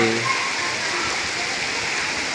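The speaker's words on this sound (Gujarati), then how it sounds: "જોરદાર વરસાદ વરસી રહ્યો છે" Heavy monsoon rain pours steadily over flooded farm fields under dark clouds in Banaskantha, Gujarat, a dense continuous hiss throughout.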